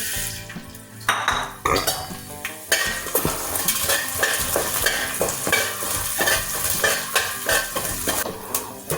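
Loud, steady sizzling of tempering seeds frying in hot oil for a pumpkin and coconut curry, with clinks of a spoon stirring against the pan throughout.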